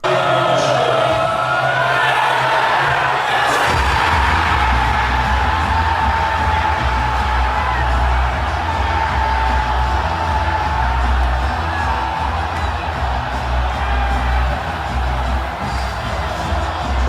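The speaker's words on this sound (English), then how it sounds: "This is what every pub in England looks like when they score in the World Cup." A packed English pub crowd erupts as a World Cup goal goes in, a loud, sustained roar of cheering, shouts and whoops that surges after a few seconds and stays intense throughout.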